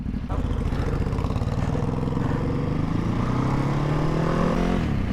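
A Ducati Hypermotard 698 motorcycle engine revving hard and climbing in pitch as it pulls through the gears, loud, continuous and close.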